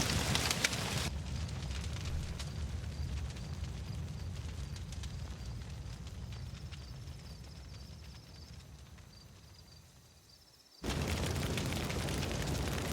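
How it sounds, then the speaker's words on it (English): Fire burning in the video game Life Is Strange: Before the Storm Remastered, a dense crackling roar that slowly fades, cuts out briefly, then returns at full strength. "The whole place is gonna catch on fire now."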